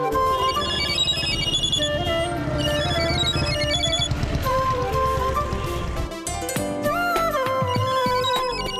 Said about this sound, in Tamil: நேதாஜி ஃபோன் அடிக்கிறாங்க